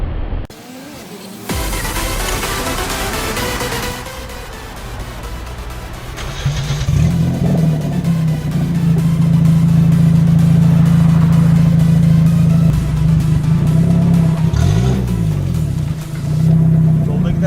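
An Opel Astra GTC engine revs up and holds a loud, steady, droning pitch for several seconds during an amateur reverse drag race against a Yamaha, with a turbo-like character, then eases off, with voices at times.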